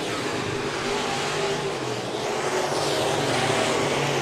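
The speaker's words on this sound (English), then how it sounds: "Great driving by Dan Woodall, getting on the binders to avoid contact with the 2 car" SportMod race cars circle an oval at Raceway Park (Interstate Speedway), producing a loud, continuous engine roar from the pack that swells slightly as the cars pass close by.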